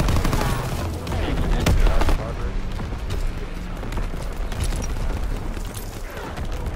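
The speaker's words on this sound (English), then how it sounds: "Oh shit, enemy artillery." Battlefield gunfire and blasts in Call of Duty: WWII during enemy artillery fire on a sandbox map, a dense continuous barrage of booms and crackling shots with an excited voice talking over it.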